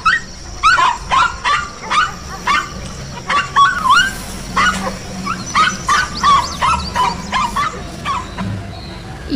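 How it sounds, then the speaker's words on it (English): A dog barks, yips and whimpers in an alphabet song for children, a close, busy string of short sharp yelps and whiny cries in quick rhythmic bursts over a faint hum. "D for dog."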